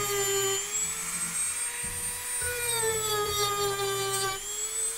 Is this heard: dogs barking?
no